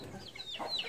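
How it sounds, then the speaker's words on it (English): A chicken gives a couple of soft, short clucks, quiet and nearby. "See, my chickens, it feels more relaxing."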